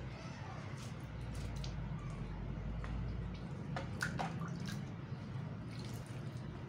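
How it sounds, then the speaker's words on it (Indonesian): Water poured over aglaonema leaves and onto the potting medium, a steady close wet splashing and dripping with soft squishy trickles throughout, no talking. "kita siram di media tanamnya juga"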